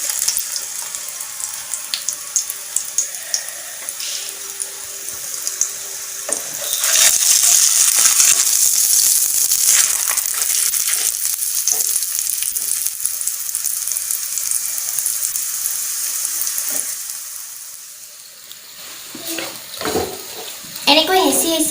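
Aloo paratha frying in a pan over a medium gas flame, a steady bright sizzle with occasional scraping and pressing of the flatbread, and someone speaking intermittently over it.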